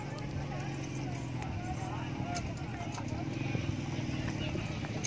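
Hooves of a desi breed stallion clip-clop steadily at a Punjabi horse show, heard close and continuous beneath a constant murmur of crowd noise and a loudspeaker voice.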